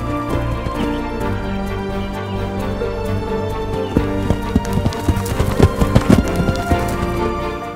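Rhythmic hoof clip-clops under a steady musical backdrop, the strikes growing sharper and more distinct in the second half.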